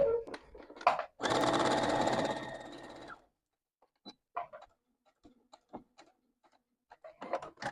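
A sewing machine stitches a dart at stitch length 2 and thread tension 4, running in one steady, fairly loud burst of about two seconds, followed by a few quiet clicks and handling noises.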